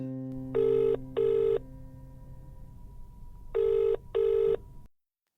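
A telephone rings in two paired bursts, a double ring, a pause of about two seconds, then another double ring, clear and close against a quiet background.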